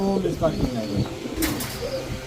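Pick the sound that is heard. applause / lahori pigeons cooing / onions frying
lahori pigeons cooing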